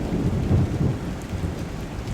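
Low rolling thunder rumbles through a steady wash of heavy rain in a misty forest, loud and continuous with no voices.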